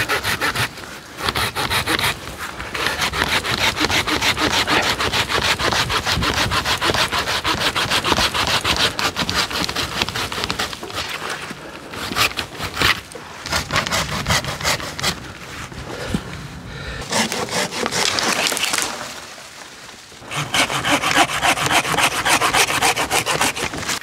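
A hand saw cuts through wisteria bonsai wood in steady back-and-forth rasping strokes, close and continuous for over twenty seconds with brief pauses.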